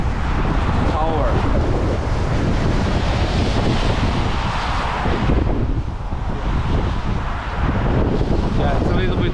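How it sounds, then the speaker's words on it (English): Gusty wind blows on a bridge in Riga, Latvia, in late December, a loud rumbling buffet across the microphone that swells and dips without letup. "it's a little bit windy now"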